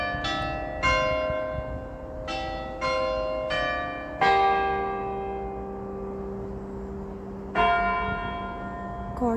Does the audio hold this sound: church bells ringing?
yes